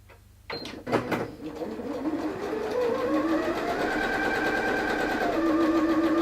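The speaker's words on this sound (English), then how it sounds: "now I'm going to sew along there" Close up, a sewing machine stitches fabric for a mini hair bow with a continuous mechanical whir that speeds up and holds steady after a few clicks and knocks at the start.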